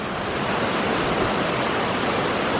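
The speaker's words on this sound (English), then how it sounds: "Pretty falls down here." Waterfall at a popular spot along Nicholson Hollow Trail in Shenandoah National Park, a steady broadband roar of falling water filling the scene evenly and fairly loud, with no voices over it.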